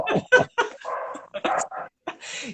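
A neighbor's dogs bark and yip in a quick ragged series of close, loud barks with a whimpering, whiny edge, with no other sound between them.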